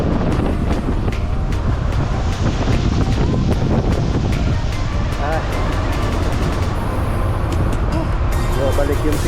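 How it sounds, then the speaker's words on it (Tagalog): Strong wind roaring over a rough North Sea aboard a cargo ship making about 5 knots, a loud continuous gusting rush with crashing water and engine rumble throughout. "Medyo malakas yung hangin"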